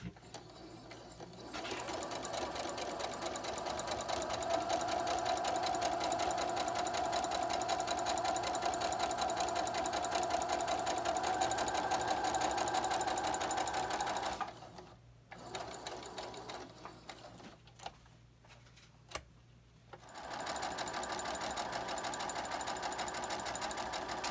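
A sewing machine stitches a quilt with a steady whirring motor hum and rapid needle clatter, running continuously for long stretches, pausing briefly and then resuming.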